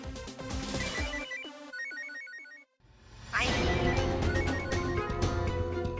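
A phone rings with a melodic electronic ringtone, a repeating pattern of tones that stops briefly and is then followed by a louder burst of tones.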